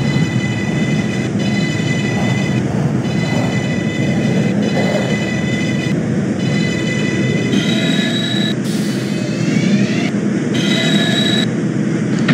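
A 6 subway train in the OpenBVE train simulator game running steadily, with continuous rumble, wheel noise and high-pitched motor whine rising and falling over the full stretch, no voices.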